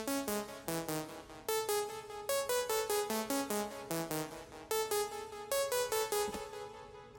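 Pluck synth melody from a Nexus preset in Ableton Live, short bright staccato notes in a quick bouncing pattern, clean and steady with no talking.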